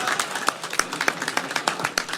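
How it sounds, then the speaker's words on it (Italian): Scattered applause at an awards ceremony for a student challenge, a small group clapping in distinct, fairly close individual claps with uneven rhythm, brief and without talk. "Grazie mille, un applauso."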